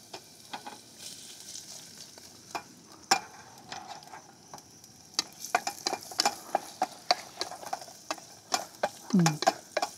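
Ginger, garlic and onion sauté together in oil at an overnight campsite, giving a low, even sizzle broken by frequent sharp clicks and scrapes of a utensil stirring against the pan, close up, with no talking.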